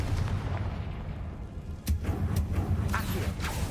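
Confringo blasting spell in Hogwarts Legacy, set in the Feldcroft catacombs: a sudden sharp blast cracking out over a dense low rumble, followed by a few lighter impacts, loud and close with no talking.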